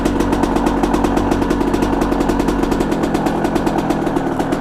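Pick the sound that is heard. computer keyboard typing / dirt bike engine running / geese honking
dirt bike engine running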